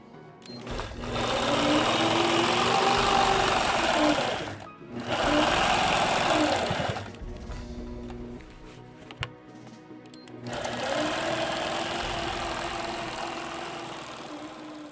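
A sewing machine quilting continuous crosshatched lines runs loud and steady in long bursts, with short pauses at the pivots on corners before the stitching starts up again.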